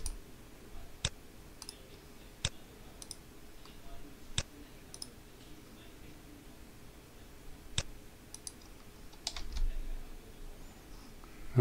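Computer mouse clicks during a browser session, sparse sharp isolated ticks spaced a second or more apart over faint background hiss, with no talking.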